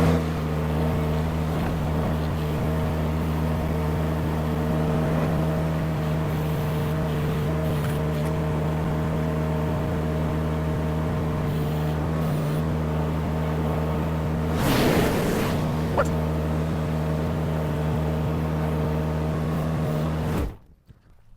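A Chinese mini skid steer runs at a steady, loud engine drone while it pulls a heavy load of about 1,500 pounds out of a trailer. The sound holds continuously, then cuts off abruptly at the end.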